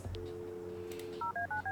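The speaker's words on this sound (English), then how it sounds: "let's use the phone and call up the Wade residence" Inside the Kathy Rain video game, a telephone plays four quick DTMF dialing tones in a clean, even rhythm after a short low hum, close and clear.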